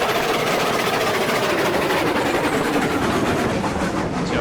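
Climax steam locomotive in the Railroad Online video game slowing in reverse, a loud steady rumble and rhythmic chuffing with a dense metallic rail clatter running unbroken throughout.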